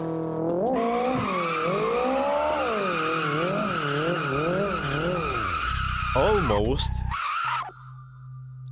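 Nissan Silvia S15 drifting in Assetto Corsa, a loud continuous tire squeal wavering in pitch over the revving engine for several seconds before cutting out, with a brief spoken word over it.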